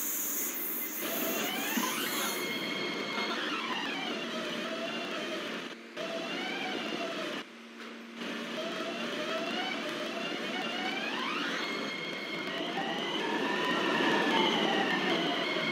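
Subway train running on the 91st Street Shuttle in Roblox, heard as a steady loud rumble with motor whines that rise and fall, plus a brief dip in the middle, with no voices.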